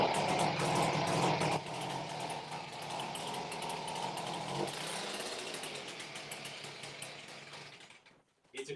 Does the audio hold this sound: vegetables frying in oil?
no